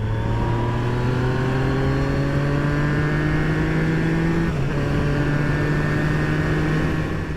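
A motorcycle accelerates on an open road on the Isle of Man, its engine tone climbing steadily through a gear, then a brief dip at a shift before it pulls on again, loud and close with continuous wind rush.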